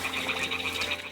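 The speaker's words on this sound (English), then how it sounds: "That's what frogs sound like." Frog croaking in the medieval game Kingdom Come Deliverance 2, a steady run of close, repeated croaks over a constant ambient hum, with no voices.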